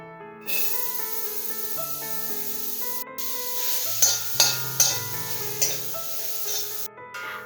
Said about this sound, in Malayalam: ഇനി നമുക്ക് ഇതിലേക്ക് ചെറുതായി അരിഞ്ഞെടുത്ത സവാള ചേർത്ത് കൊടുക്കാം